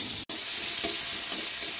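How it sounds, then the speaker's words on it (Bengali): Onion and cumin seeds sizzle and fry in a fish-frying pan, a steady close hiss with a brief cutoff near the start, no voices. "মাছ ভাজার কড়াইতে আমি পেঁয়াজ আর জিরা ফোড়ন দিয়ে দিয়েছি, এটাকে সুন্দর মতো ভেজে নেব"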